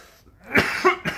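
A person coughs close to the microphone, three harsh bursts in quick succession after a brief quiet start.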